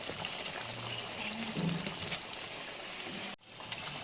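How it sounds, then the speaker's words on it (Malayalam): Ground coconut paste is poured into a pan of chicken curry, giving a soft, brief, close-up pour and plop over a faint background hiss. "ആ തേങ്ങ അതിലേക്ക് ഒഴിച്ചു കൊടുക്കാം."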